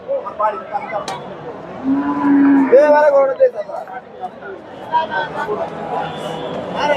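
A cow lets out a long low moo amid the chatter and murmur of a busy crowd at a dairy cattle market in Bogura, Bangladesh, with people talking throughout.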